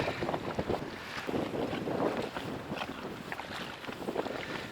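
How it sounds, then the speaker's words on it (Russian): Strong wind buffets the microphone while fishing for carp and zander, giving a rough, gusting roar that swells and dips for several seconds with no voices. "Ветер вообще усилился."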